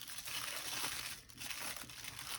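Close, soft paper crinkling comes in two bursts as a small paper gift pouch tied with a ribbon is opened, with no voices.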